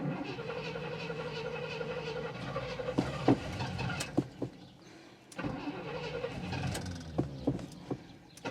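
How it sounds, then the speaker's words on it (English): An abandoned 1972 Cadillac engine cranks in repeated bursts with sputters and brief catches, pausing between attempts; a voice is faintly present. "So let's just get this thing running."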